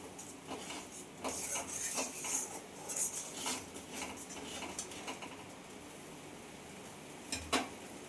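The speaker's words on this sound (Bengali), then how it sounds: "এবার মশলাটাকে কষিয়ে নেব মশলাটা ভালো মতো।" Masala spices being sautéed in a pan for potol malaikari, with a spoon or spatula clinking and scraping against the pan in scattered bursts over a faint background sizzle.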